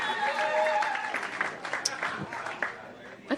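An audience at a comedy show applauds a DJ, a moderate burst of clapping and crowd noise that tapers off as a voice talks over it.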